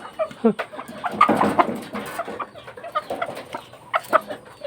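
Hens cluck close by in short, irregular bursts, a busy farmyard chatter of fowl that runs steadily through the few seconds with soft background noise.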